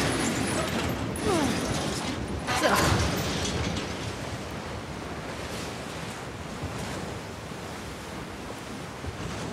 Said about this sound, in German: Der Sturm wird schlimmer und das Wasser natürlich noch wilder.